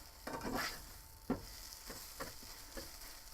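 Eggs cook in a frying pan while a utensil chops them up, giving a few quiet, separate scraping knocks against the pan over a faint, low sizzle.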